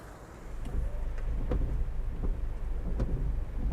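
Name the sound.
heavy rain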